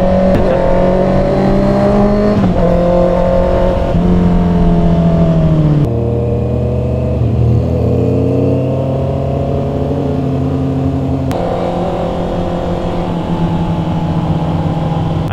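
A Honda CBR650R sports-touring motorcycle engine runs loud and close, its pitch climbing and falling through repeated revs and gear changes in a continuous, smooth four-cylinder wail.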